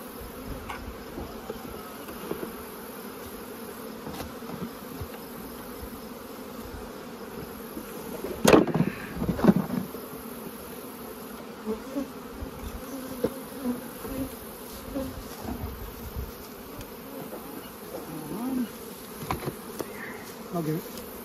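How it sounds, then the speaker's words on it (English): Honey bees hum steadily around an open hive during a mid-season split, a dense continuous buzz with a few louder passes close by, mostly alone without talk. "nearly all the bees are either foraging or up in the supers, storing and drying honey"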